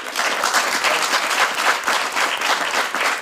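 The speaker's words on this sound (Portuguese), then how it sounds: "Uma salva de palmas." A studio audience at a late-night Portuguese TV show applauds a band's musicians as they are introduced, with steady, dense clapping that stays loud and even throughout.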